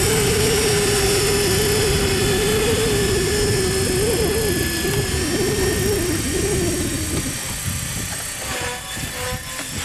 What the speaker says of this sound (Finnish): Kuulostaa helikopteri.